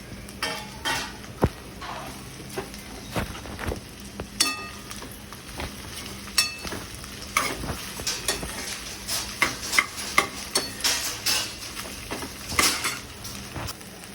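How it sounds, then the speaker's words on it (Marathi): Okra stir-fries in oil in a large pan, a big batch of about five kilos, with a constant soft sizzle under repeated metal scraping and clinking from the spatula against the pan, no voices. "सगळी भेंडी आता मी तेलात परतून घेणार आहे"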